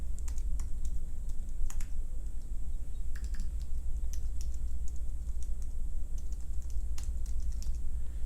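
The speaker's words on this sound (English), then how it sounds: "we're going to go ahead and just type this email out" An email being typed on a computer keyboard, a run of close, quick key clicks in irregular bursts over a steady low background hum, with no talking.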